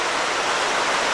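A small waterfall on a hiking trail along the Mason-Dixon Trail near Schull's Rock, a steady, close, full-bodied rush of falling water with no voices.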